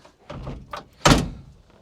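A stiff door on an older cheap Jeep thunks shut with one solid close, preceded by a few softer rattles and handling knocks, heard up close with no talk.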